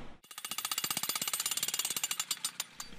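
An electric jackhammer starts up and hammers in a fast, even train of sharp impacts. It stays loud and close while working ground for greenhouse posts, then sputters into a few final separate blows.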